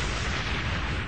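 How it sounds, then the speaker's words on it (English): Simulated 0.5-kiloton nuclear explosion in a harbor with large ships anchored near shore, a massive, continuous deep roaring blast rumble filling the whole moment at full loudness. "The monstrous explosion is powerful enough to wipe out a small city."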